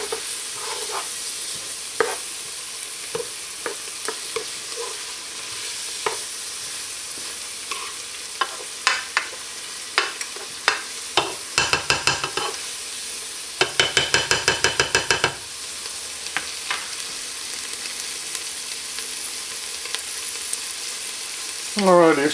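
Aromatics for white bean turkey sausage chili sizzle in a hot pot over raised heat, a steady frying hiss broken by scattered scrapes and taps of a stirring utensil, with a rapid clatter midway.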